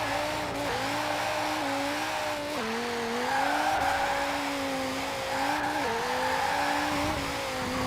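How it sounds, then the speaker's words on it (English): A Dodge Viper in Forza Horizon 4 accelerates hard with rear-wheel spin, the engine droning loudly and rising through several gear changes while tire squeal runs continuously underneath, no talking. "the Dodge Viper sounds cool, it accelerates nicely, and even though it's rear wheel drive and can, it spins quite a lot"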